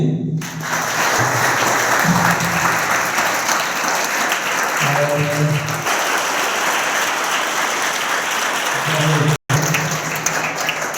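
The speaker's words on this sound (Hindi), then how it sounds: "धन्यवाद देंगे, आप सभी ताली बजाइए।" Audience applause at a Brahma Kumaris youth seminar on a drug-free India in Ballia: steady, loud clapping from a crowd that carries on for about nine seconds, stops abruptly, then resumes briefly.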